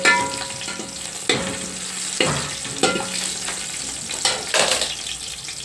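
Whole spices, coriander, mint and green chilies fry in a pan for chicken dum biryani, a loud continuous sizzle broken by sharp scraping stirs and utensil knocks at irregular intervals.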